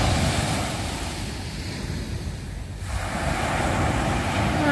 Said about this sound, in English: And here's the little rumbly